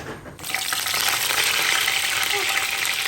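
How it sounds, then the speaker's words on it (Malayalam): Prawns fry in hot coconut oil, a loud, busy sizzle and crackle that bursts in after a brief quieter moment and keeps going steadily. "അടിച്ചു വെച്ച ചെമ്മീൻ എടുത്ത് നമുക്ക് പൊരിക്കാം"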